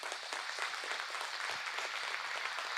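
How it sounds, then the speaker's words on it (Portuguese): Congregation applauding during a church worship service, steady dense clapping at a fairly faint, distant level with no clear talk. "Vamos aplaudir o nosso Deus,"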